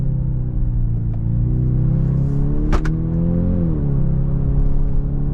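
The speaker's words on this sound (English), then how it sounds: "The real exhaust note is pretty muted, but very good response here in sport mode to these shifts" A Genesis GV70 2.5T AWD compact SUV in sport mode, its muted engine and exhaust droning steadily with rising and falling pitch through gear shifts, a brief sharp click partway, no talk.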